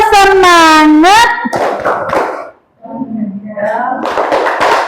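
Group spirit clap at an Indonesian classroom training session, a short burst of rhythmic hand claps mixed with voices chanting along, close and loud.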